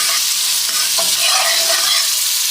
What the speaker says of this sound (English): I want the onions completely cooked. I'll continue cooking